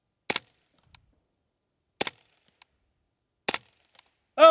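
A Ruger 10/22 rifle in a Luth-AR chassis fires three sharp, separate shots about 1.5 seconds apart, each with a short echo, with quiet gaps between them.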